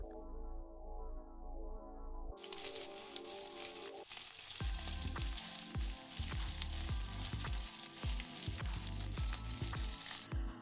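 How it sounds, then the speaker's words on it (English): Chicken breast grilling in oil sizzles steadily and loudly, a dense continuous crackle broken by occasional knocks and clatters from handling the pan. "But listen to that sizzling sound."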